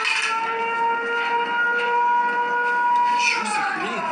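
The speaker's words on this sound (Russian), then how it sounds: "Я слышу звук сирены, ребят." A long rising and falling siren wail from a Siren Head horror video game holds steady and loud through the whole stretch, with layered harmonic tones bending upward near the end.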